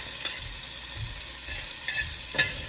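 Onions, carrots, celery, peppers and garlic sizzle steadily in a pot for chicken cabbage soup, a bright continuous hiss with a few soft stirring knocks, close and without talk.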